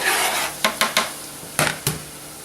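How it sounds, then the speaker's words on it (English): Garlic dropped into a pan while cooking a chicken and chickpea stew, a few sharp clinks and short sizzling taps over a steady background hiss, close and fairly loud, with no talking. "Garlic goes in the pan."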